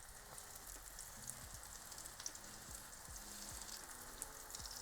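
Aubergine slices fry in oil with a soft, continuous crackling sizzle, quiet and even throughout, dotted with small pops and faint low thuds, with no voices.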